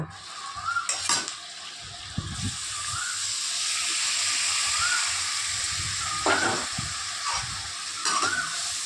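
Oil sizzles steadily in a pan while frying ingredients for a pointed gourd and prawn curry, a continuous close hiss broken by a few sharp stirring scrapes and clinks.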